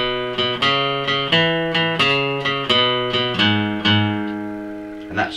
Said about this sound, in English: we're going to pick each note twice with a down and an upstroke motion.